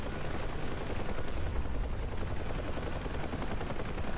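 Heavy machine-gun fire targets a helicopter in the flight simulator DCS, a rapid continuous rattle of shots with the rotor drone beneath, loud and unbroken for a few seconds.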